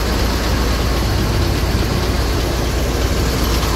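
A double-decker bus engine idles at close range, a loud, steady low rumble with broadband mechanical noise that holds level throughout, no voices over it.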